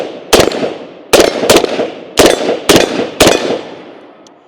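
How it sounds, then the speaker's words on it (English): Six sharp, loud rifle shots from a CMMG BR47 ring out at close range, unevenly spaced with two quick pairs, each crack followed by a fading echo and no talking. "Let's go ahead and load it up and take a few more shots with it."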